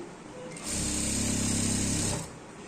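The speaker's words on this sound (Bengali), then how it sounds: "এই যে একটা সেলাই এখানে বসাইতে হবে মেশিনে।" A domestic sewing machine stitches elastic onto a salwar in one steady, close run of about a second and a half, its motor whirring evenly before stopping.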